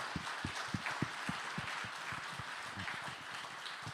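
An audience at an education summit claps together in a quick, even rhythm, a moderately quiet patter of hands lasting a few seconds.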